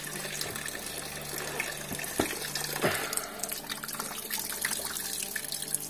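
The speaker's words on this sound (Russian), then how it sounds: "Течет минералка." Cold mineral spring water runs steadily from a tap into a bathhouse basin, a continuous close gush with a few brief clunks and splashes over its bright hiss.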